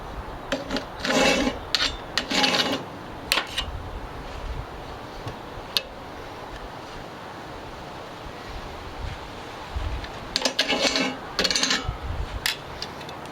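Cloth rubbing oil across a cast iron grill grate, giving soft raspy wiping strokes in short bursts near the start and again near the end, with quieter gaps between.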